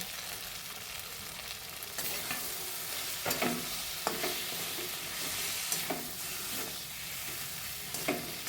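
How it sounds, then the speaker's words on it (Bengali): Boiled potato and fried kakrol are stir-fried with spices in a pan, heard as a close, steady sizzle broken by repeated scraping and knocking spatula strokes, with no talk. "সিদ্ধ আলুটা মশলার সাথে একটু কষিয়ে নিচ্ছি"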